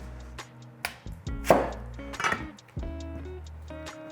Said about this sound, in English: So with a white onion, we'll just take off a little nasty nubbin thing here.